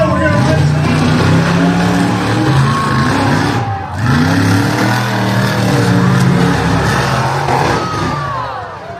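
Monster trucks roar at a race show in Bowling Green, Ohio, their engines revving hard and loud almost without a break, a brief dip midway, with a crowd and an announcer's voice mixed into the din.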